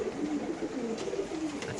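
Teddy pigeons cooing softly at a pigeon farm, a steady low murmur of overlapping coos from several birds at close range, with no talking.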